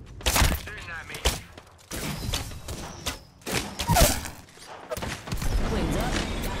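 Gunfire and heavy impacts in a shooter video game, bursts of shots and thuds mixed with explosive clatter, fairly loud with a player talking over the action.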